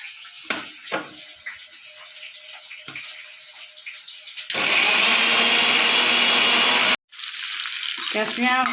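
A blender grinds tomato, onion, green chili and cashew into a paste, a loud steady whirring roar running for a couple of seconds, cutting out briefly, then resuming; softer kitchen clatter comes before it.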